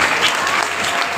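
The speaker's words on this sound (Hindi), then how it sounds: "एक बार जोरदार ताली।" A loud round of applause from a gathered group at a disaster-preparedness program, thick continuous clapping from many hands, close and vigorous for the whole short burst.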